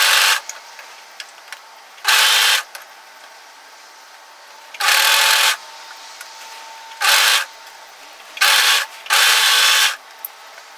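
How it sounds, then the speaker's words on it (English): Overlock serger stitching three stretched layers of sweater fabric in a circle runs in five short, loud bursts of fast mechanical whirring, separated by quiet pauses, with no voices. "I'm going to overlock that in a circle."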